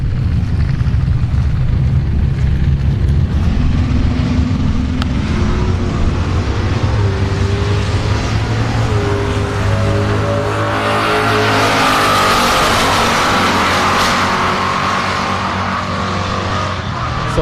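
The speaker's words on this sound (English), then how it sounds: "So that was the Dart Stinger 91 to 122. and a Fox body." Drag race between a Dodge Dart Stinger and a Fox body at Orlando Speed World: loud, sustained engine roar of cars launching and accelerating down the strip, rising in pitch, with crowd-level ambience throughout.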